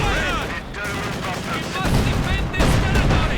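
Artillery and mortar fire in the video game Company of Heroes 2, sounding as a run of sharp blasts and rumbling booms under continuous commentary.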